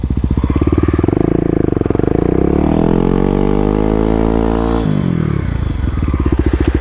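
A Kawasaki KLX250 dirt bike spins its rear wheel in burnouts on a wet lot in second gear, the engine revving loud and close with a rising and falling drone and brief drops in pitch.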